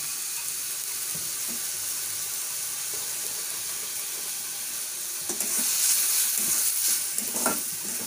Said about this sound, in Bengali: এটা আমি ভালো করে একটু কষিয়ে নেব।